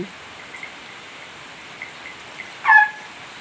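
Rain falls as a faint, steady hiss throughout, with a short bird chirp cutting through near the end.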